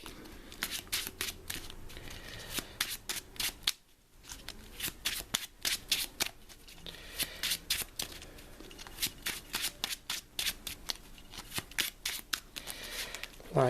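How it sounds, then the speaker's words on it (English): Repeated riffling bursts of a Marvel Champions card game deck being shuffled, crisp and close, with brief pauses between passes and one short silent gap. "We shuffle our deck."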